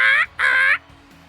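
A person mimics a seagull call with two loud, shrill squawks in quick succession, followed by quiet.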